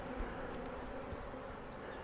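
Honey bees buzz at a Flow Hive Hybrid during a honeycomb inspection, a dense, continuous, close-up hum with no voices.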